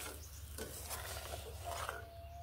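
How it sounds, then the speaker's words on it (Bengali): A spoon stirs ground spices in a pan with eggplant while cooking, giving soft scraping and stirring sounds over a quiet, steady sizzle, close and low in level, with no talking. "এইভাবে নেড়ে নিচ্ছি।"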